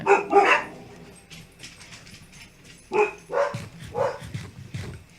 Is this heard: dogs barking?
yes